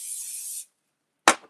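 Hair spray hisses from a can onto hair being combed and prepared for curling, one steady half-second burst, then a pause, then a short, sharp second burst up close.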